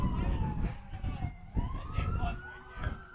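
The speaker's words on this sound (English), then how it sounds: "So the pitcher's gonna stop from siren going off" An emergency vehicle siren wails near a high school varsity baseball playoff game, its pitch sliding up and down at moderate distance over a noisy outdoor background.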